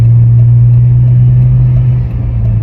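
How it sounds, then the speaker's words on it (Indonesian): A steady, loud engine and exhaust drone from a supercharged Toyota FJ Cruiser SUV while driving, with a deep low hum, continuous with little change. "Kalau pakai supercharger, suara knalpot lebih kencang dari aslinya"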